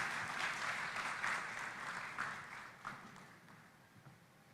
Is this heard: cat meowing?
no